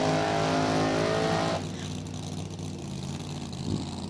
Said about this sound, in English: let's slip right into the final round top alcohol funny car